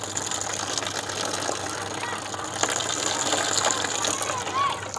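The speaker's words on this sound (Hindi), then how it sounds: "आप पानी देख सकते हैं कहाँ पानी गिर रहा है" Water poured over the cotton pad of a homemade window cooler, a steady close gushing and splashing wash that runs continuously through the moment with a faint background hum.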